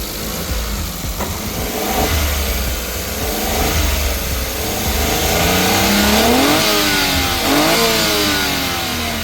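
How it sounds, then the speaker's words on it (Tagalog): A Suzuki DA17V van engine with Tiptronic AGS transmission revs repeatedly up and down, loud and close, with pitch climbing and falling over a steady rumbling idle. "Ang hinog-hinog na ang tunog ng makina."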